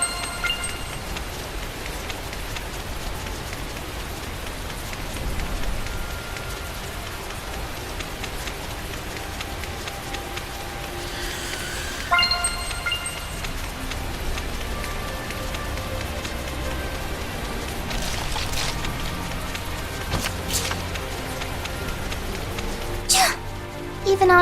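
Steady rain patters and hisses across the scene in the Tales of Zestiria video game, a constant wash of drops with a few brief game effects and chimes rising over it.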